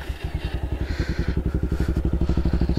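A modified Bajaj Pulsar 220 motorcycle with an aftermarket Akrapovic exhaust runs close by, its engine pulsing in a fast, steady rhythm of loud firing thumps that quicken slightly as it revs, with no talk over it.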